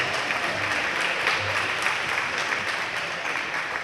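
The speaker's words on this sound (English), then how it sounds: "Please join me now in applause for our game officials and their commitment to education-based athletics." A volleyball gym audience applauds the game officials before a high school match, a steady, even roar of many hands clapping at close range for the whole stretch.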